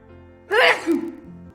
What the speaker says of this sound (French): J'arrête pas d'éternuer.